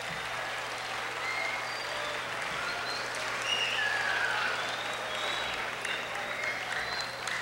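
A school audience at a 100th-anniversary high school lecture claps in a steady, continuous wash of sound at moderate loudness, with no clear breaks for the whole stretch.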